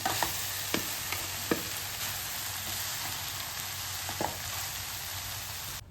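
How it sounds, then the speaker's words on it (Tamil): Cooked rice being stirred into a frying soy sauce mixture for chilli paneer fried rice, a steady low sizzle with soft scraping and a few sharp clinks of a spoon against the pan, no voices. "இப்போ சாதத்தை கலந்துடலாம். உதிராக வடித்து வச்சுருக்க சாதத்தை இதை கலந்துடலாம்."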